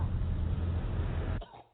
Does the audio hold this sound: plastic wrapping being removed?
no